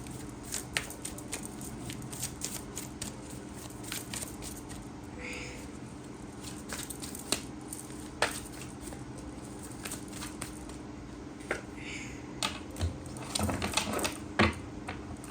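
Tarot cards shuffled by hand, rapid papery riffles and soft slaps in irregular bursts, close and fairly quiet, over low background hum with no talk in this stretch.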